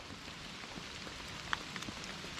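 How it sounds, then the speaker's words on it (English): Rain falls steadily on a muddy mountain trail on the Kashmir Great Lakes trek, a soft continuous patter with a few louder drops close by and no voices. "it started raining, and the trail has become muddy, slippery"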